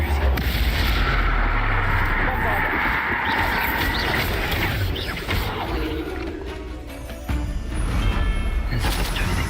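Spell blasts from Confringo and Bombarda in the Hogwarts Legacy video game pound almost without pause, a loud, dense mix of booms and crashes with a voice talking over the combat.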